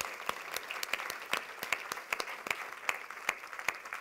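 Audience applause at a sailing event, fairly thin and spread out, with distinct individual claps popping out of a lighter patter in an uneven rhythm.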